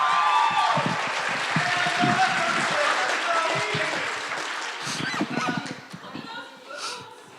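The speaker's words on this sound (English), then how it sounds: "give a big, rowdy round of applause for our calibrating poet this evening" A poetry slam audience gives a rowdy round of applause for a poet, loud clapping mixed with whoops and shouts that gradually thins toward the end, where scattered voices remain.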